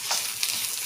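Onions and minced meat frying together in a pan while being stirred, a steady close sizzle with soft scraping of the spoon, no talking.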